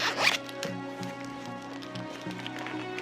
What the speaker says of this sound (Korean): 안쪽도 지퍼 형식이고요.